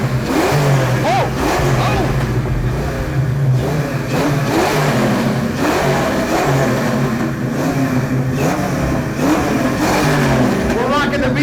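A Ford Mustang fitted with a BBK Big Pipe exhaust and 2.5-inch mufflers revs hard at a car show competition. The engine growls continuously, rising and falling through repeated throttle blips, with crowd voices and chatter mixed underneath.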